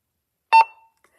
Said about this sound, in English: it makes that little dat noise so you know it is on